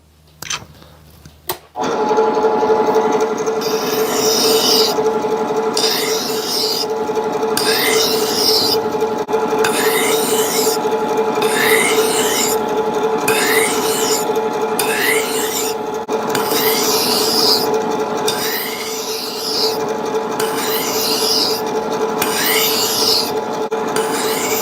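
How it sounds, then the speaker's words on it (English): Steady rhythmic rasping of a lathe file stroking a metal part from an early-1900s drill press being rebuilt, close and continuous for over twenty seconds after a few faint knocks at the start. "I have my lathe file. I'm going to hit it with that."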